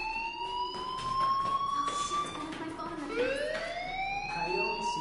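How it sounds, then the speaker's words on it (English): A fire alarm in the game Life is Strange wails with rising electronic siren tones and harmonics, loud and continuous across the whole span. "Hey, do you hear that fire alarm?"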